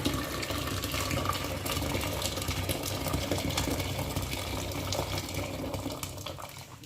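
Liquid pours steadily into a pot, a continuous splashing trickle with faint clinks in the background.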